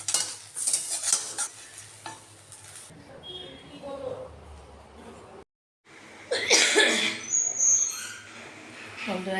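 Food frying in a pan until crisp, with stirring and sizzling heard in bursts, a short break in the middle, and a voice speaking at times.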